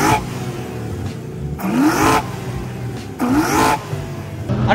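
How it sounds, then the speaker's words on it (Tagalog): A 1980 Toyota Corolla KE70 with individual throttle bodies and a swapped engine revs hard twice, each blip rising sharply and falling back to a loud, rough idle between. "Okay, papakinggan natin yung ITB nito."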